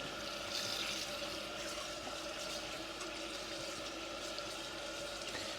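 Cold tap water runs steadily over a raw turkey in a kitchen sink, a soft, even splashing rush that continues unbroken and fairly quiet with no talking.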